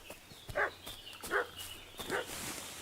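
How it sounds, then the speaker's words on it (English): Dog barking in Kingdom Come Deliverance II, three distinct barks roughly evenly spaced, moderately distant and soft against a quiet outdoor background. "What's that dog making such a fuss about?"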